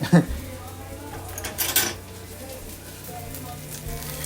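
Ground meat frying in a pan with onions for walking taco filling, opening with clanks of a spoon against the pan and a brief loud scrape, then a soft continuous sizzle.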